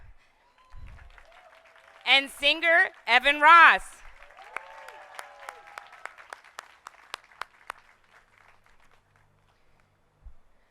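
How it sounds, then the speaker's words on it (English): At a Hollywood Walk of Fame ceremony for Terrence Howard, an announcer speaks, then light, scattered claps from the outdoor audience pop sparsely and thin out. "let's give a round of applause for Garrett Hedlund"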